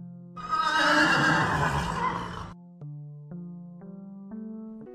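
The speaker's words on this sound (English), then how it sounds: "Horse." A horse neighs loudly for about two seconds, a shrill whinny, followed by soft, steady musical notes.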